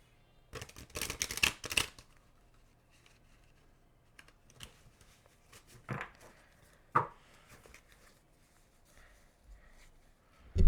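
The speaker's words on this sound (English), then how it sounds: "I'm getting better at shuffling" A deck of tarot cards being shuffled by hand in several quick crisp bursts of riffling and tapping, close up, separated by quiet pauses, with no voices.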